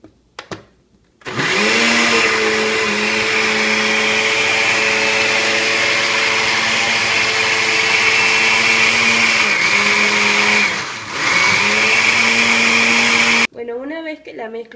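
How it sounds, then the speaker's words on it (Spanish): A blender whirs loudly and steadily for about twelve seconds, mixing coconut banana pudding batter with oats, its motor pitch dipping briefly midway, then cuts off sharply, followed by a faint voice. "Licuado todo, le echamos por último la avena"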